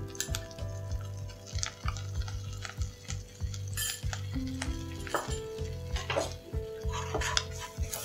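A utensil stirs flour into melted butter in a pan, with repeated scraping and clinking against the metal and a soft sizzle underneath, close and continuous with no talking.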